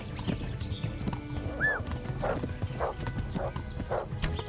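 Horse hooves clip-clop at a gallop in the medieval video game Kingdom Come: Deliverance, with a short whinny partway through, steady rhythmic hoofbeats running throughout.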